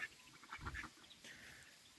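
Captive wild mallard ducks give a few quiet quacks, with one brief louder burst near the middle, against a hushed outdoor background.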